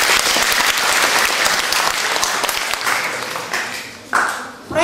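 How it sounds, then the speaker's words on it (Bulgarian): Loud, sustained audience applause at a village community hall concert for the children who performed, a dense wash of clapping that dips briefly near the end and swells again. "Първо аплодисменти за децата"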